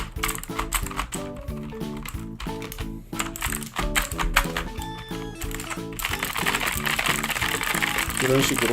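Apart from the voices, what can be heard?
jelly cleaner pressed onto computer keyboard keys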